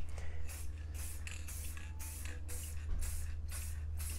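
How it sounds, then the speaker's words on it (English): An aerosol can of spray paint hisses in repeated short bursts, steady and close, as a mask is painted over a constant low hum. "I'll show you a little bit of me spray painting."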